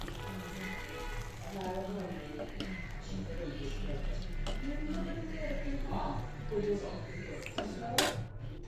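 A spoon stirs semiya payasam, a vermicelli milk pudding with cashews and raisins, in a metal pot. Soft clinks and scrapes sound under continuous talk.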